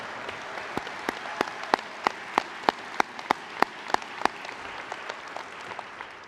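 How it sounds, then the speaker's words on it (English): Audience at the 134th International Moose Convention's officer installation in 2022 claps in an evenly spaced, rhythmic pattern of sharp, moderately distant claps over a quiet, hushed room. "How about a round of applause for our field staff?"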